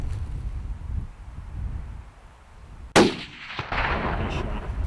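A single sharp rifle shot at a mule deer buck cracks out over steady wind noise on an open Wyoming hillside. The loud report is followed by a brief rolling echo, and then the wind continues.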